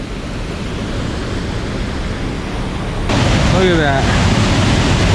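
St. Mary Falls in Montana rushes with powerful water, a loud, broad, constant roar that grows stronger partway through. A voice speaks briefly over it.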